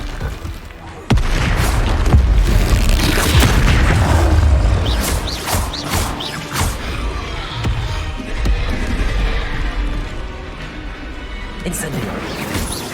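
Spell explosions in the Hogwarts Legacy video game: a string of loud booms, crackles and bursts of magic in irregular succession over a rumbling combat mix, with game voices shouting throughout.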